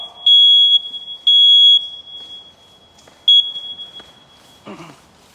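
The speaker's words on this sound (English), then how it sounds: "you start hearing the smoke alarm" A shrill smoke alarm sounds in three loud, piercing beeps, two long and one short, followed by faint rustling, during a fire department fire prevention demonstration.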